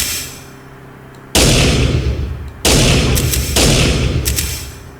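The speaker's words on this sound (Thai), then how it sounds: "แต่เสียงปืนปังปังปังนี่น่ารำคาญสุดละ" Three loud, booming gunshots in a video game go off a second or more apart, each leaving a long ringing decay.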